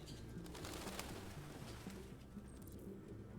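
Pigeons coo softly in the video game Detroit: Become Human, a few low repeated calls in a quiet ambient scene with faint high chirps, no talk.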